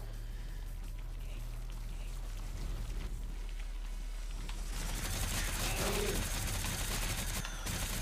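Bratlin gun shots fired in the shooter game Rawmen, a burst of rapid crackling reports that swells in the second half, with no talking.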